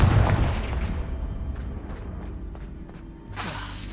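Confringo fire spell cast in Hogwarts Legacy: a heavy rumbling blast opens, then fading crackles and a few clicking mechanical ticks, with a fresh whooshing burst near the end, loud and without speech.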